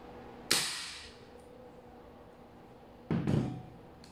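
Two sharp, loud shots from a BCM MCMR MK2 airsoft gas blowback rifle, a single crack followed by a second, longer burst about two and a half seconds later, with quiet gaps between.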